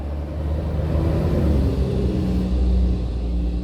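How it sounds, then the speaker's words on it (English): A truck rolls past as a steady, loud low rumble of engine and road noise, holding close and constant throughout with no voices. "That's a truck."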